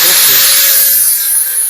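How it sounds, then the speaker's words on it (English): A grinding wheel deburring metal stock in a fabrication shop, a steady high-pitched whine with a constant tone, loud and close, easing off slightly toward the end. "I'm just deburring this."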